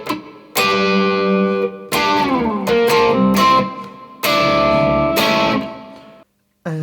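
Distorted electric guitar playing the riff of Blur's "There's No Other Way" at full speed, chunky effects-laden chords in repeating phrases, loud and close with no talk.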